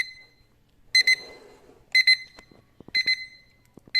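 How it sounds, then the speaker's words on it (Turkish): A mirrored digital desk clock alarm sounds close, sharp electronic beeps in repeated double bursts about once per second, with faint clicks and rustling between them. "Evet, şu an alarm çalıyor."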